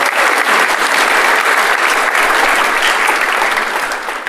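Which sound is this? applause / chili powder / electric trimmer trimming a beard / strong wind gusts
applause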